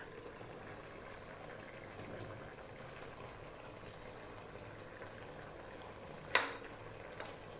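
Tuna in coconut milk simmering over medium heat, a faint, steady bubbling hiss that runs the whole time, with one sharp clink partway through.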